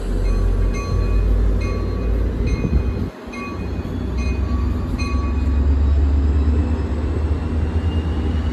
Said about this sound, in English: It's my first time hearing a diesel engine.